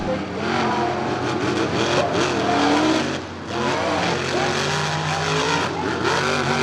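Monster trucks race in rallycross at Charlotte Motor Speedway, with engines roaring and revving hard and tires squealing through turns. The noise is loud and continuous, dipping briefly midway, under an announcer's commentary.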